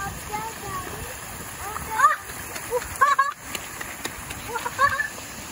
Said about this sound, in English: It's a double waterfall.